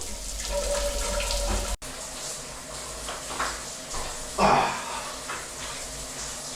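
Steady hiss of running water from a shower fills the clip, with a brief cutout and a louder splash midway.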